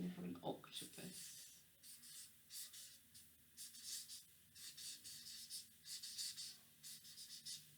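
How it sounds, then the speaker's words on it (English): Marker or chalk writing on a classroom board, a run of scratchy, squeaky strokes in short bursts with brief pauses between them, close and clear, opening with a few low taps. "So I'm going to write that up here."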